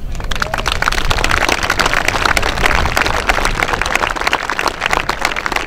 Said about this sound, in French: Je crois qu'on peut également les applaudir.